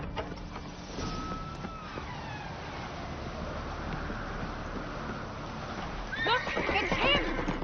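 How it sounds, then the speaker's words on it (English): A horse whinnies near the end over a steady rumbling background, with hooves and a low murmur of activity throughout, in the video game The Witcher 3: Wild Hunt. "Grab a horse, we'll chase him down."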